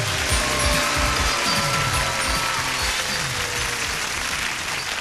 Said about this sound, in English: those people applauding so hard for you, Ryan